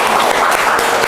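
Loud, dense applause from an audience welcoming a speaker at an Indonesian talk event, steady clapping close and filling the whole moment.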